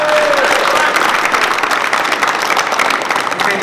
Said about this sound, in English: please give another round of applause for Mr.